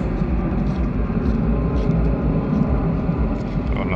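An airplane taking off gives a steady, heavy, low roar that fills the whole stretch without a break, loud and continuous with no talk over it.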